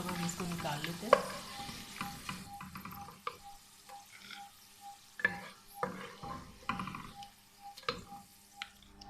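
Almonds frying in a pan for sheer khorma, a soft steady sizzle broken by scattered clicks and scrapes of a spoon stirring against the pan, heard close with no talking.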